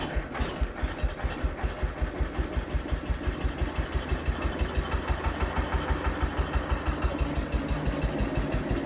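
A small engine warming up on full choke after sitting unused for a long time runs in a steady, fast putter, loud and close, with an even beat throughout and no talking.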